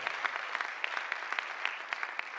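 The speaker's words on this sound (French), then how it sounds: "On applaudit très fort pour cette chorale." Audience claps for a choir at a church gathering, a moderately quiet, steady patter with a few sharper individual claps standing out.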